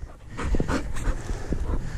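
A dog pants close by in quick, breathy bursts, with brief high whimpers mixed in.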